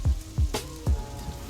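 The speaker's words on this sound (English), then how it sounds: "It's just very heavy rain." Heavy rain from the Assetto Corsa racing game comes through as a dense wash of rainfall, with rhythmic low thumps repeating about every third of a second beneath it.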